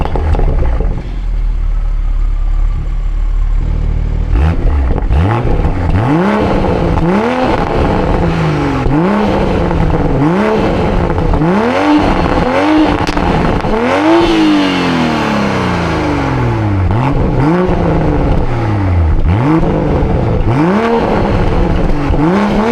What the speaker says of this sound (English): If you want to hear the burbles, put it into sport mode.